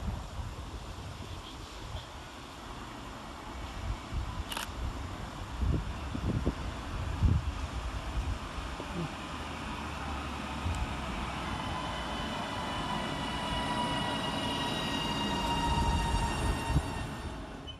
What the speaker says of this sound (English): here comes our train in the form of 331008, working the 1718 Northern service from Crewe to Manchester Piccadilly.